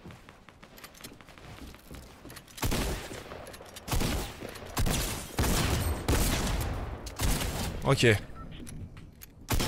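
Gunfire in a Fortnite battle rattles in loud rapid bursts with sharp impacts, alongside game effects while a player talks over it.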